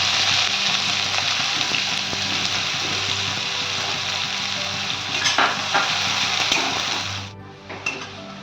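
Chopped onion hits hot oil already tempered with whole cumin, mustard seeds and a pinch of hing, giving a loud, steady frying sizzle with faint stirring scrapes that eases off near the end.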